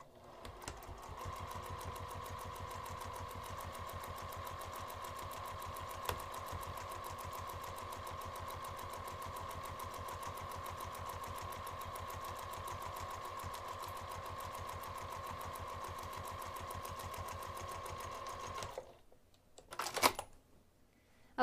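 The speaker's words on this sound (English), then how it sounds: "I'm going to take this over to the sewing machine, and I'm going to top stitch just the curved edge" A sewing machine set to a lengthened 3 mm stitch top-stitches a curved edge, running at a steady, even hum for about nineteen seconds before stopping, with a brief clunk after.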